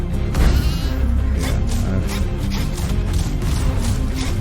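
Sheep bleating from a video game as a player is turned into a sheep, a loud, dense run of repeated bleats over busy game sound with no talk.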